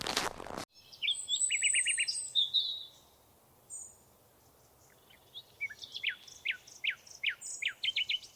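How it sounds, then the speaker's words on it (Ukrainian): Birds singing nearby: a burst of sharp noise, then bright warbling phrases and a run of repeated high chirps with short pauses between. "Пташки співають."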